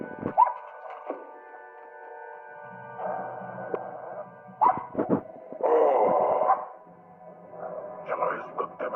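A dog in a Hindi-dubbed action film barks and yips in scattered bursts, mixed with spoken dialogue and a few dull thumps.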